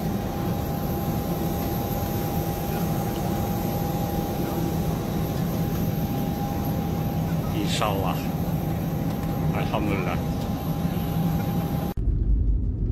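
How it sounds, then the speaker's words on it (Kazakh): Steady, loud roar of an airplane engine building up for takeoff, heard from inside the cabin, with someone speaking briefly over it. "Самолет разогнался."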